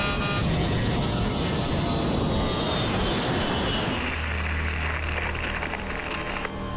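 An airliner on its takeoff roll nears the end of the runway, engines roaring loud and continuous, then the roar shifts to a lower rumble with a thin high whine above it.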